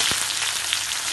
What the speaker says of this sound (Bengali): 20 থেকে 30 সেকেন্ড পর এবার আমি তেলের ওপর পেঁয়াজ দিয়ে দেব।